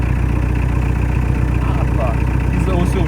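A vehicle engine with about 300,000 km on it and oil seeping from it idles steadily in a loud, continuous low drone, with faint clanks and voices in the background.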